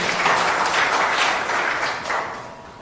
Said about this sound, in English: A bigger round of applause to the UNEB team